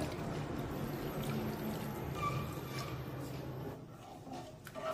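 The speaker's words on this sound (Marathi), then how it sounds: "यामध्ये हे गरम केलेलं दूध आणि पाण्याचं मिश्रण यामध्ये टाकूया" Warm milk and water mixture poured into a pan of roasted barnyard millet with cashews and almonds, a steady close liquid pour running continuously without talk.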